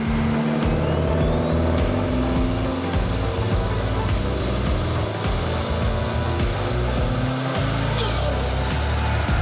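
A turbocharged Mitsubishi Evo X engine, running 21–22 PSI of wastegate boost, revs hard through a pull to 7,000 rpm. A loud, sustained roar rises steadily in pitch, then drops sharply near the end.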